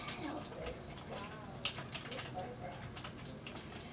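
Rapid, irregular computer keyboard clatter comes from someone using the keyboard to play an Xbox game, the faint keystrokes ticking close by against quiet room noise, with some voice in the background.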